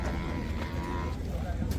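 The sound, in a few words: buffalo lowing at a buffalo market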